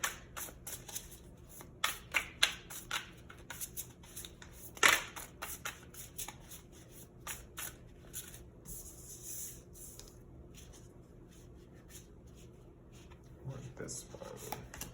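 Tarot cards being shuffled by hand, soft papery riffles and taps close up and fairly faint, with quiet handling sounds between bursts.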